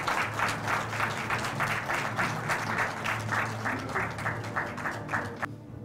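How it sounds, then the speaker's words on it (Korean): Sustained, vigorous applause from a crowd at a hospital director's inauguration ceremony fills the hall, steady and fairly close, then fades out abruptly at the end. "힘찬 박수를 부탁드리겠습니다."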